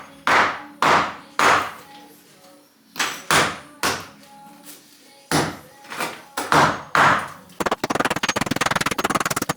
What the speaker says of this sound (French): Je vais arrêter de le faire au marteau parce que je suis en train de le plier en deux là.